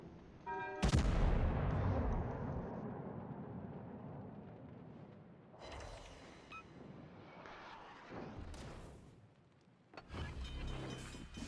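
Naval guns in World of Warships boom out heavy high-explosive salvos: one loud blast opens with a long rumbling tail, then further bursts land at intervals, with no talk over them.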